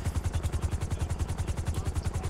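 A helicopter in a FiveM GTA roleplay video game thrums loudly with fast, even rotor pulses that continue steadily and alone throughout.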